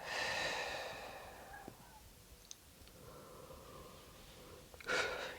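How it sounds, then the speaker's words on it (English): Slow, breathy exhale during a chair yoga session, a soft airy rush through the first couple of seconds that fades into quiet room tone, with a faint breath returning near the end. "breathe out."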